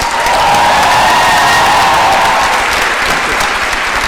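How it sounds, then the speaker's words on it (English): Loud, sustained applause from a large audience at a university commencement, steady clapping filling the whole clip with a faint murmur of voices underneath. "Now applause."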